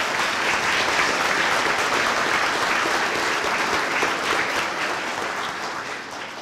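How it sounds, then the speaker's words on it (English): Sustained applause from the audience for the faculty at a community college high school equivalency graduation ceremony, a dense, even clapping that holds steady and tapers slightly toward the end, with no speech over it. "let's have a round of applause for the faculty"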